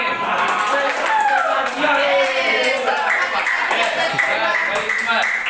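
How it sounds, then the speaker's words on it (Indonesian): Students in a high school Arabic class give a student group a scattered round of applause, claps mixed with lively chatter and voices across the room. "silakan tepuk tangan untuk kelompok kami"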